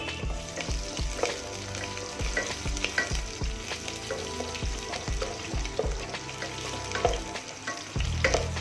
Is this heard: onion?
yes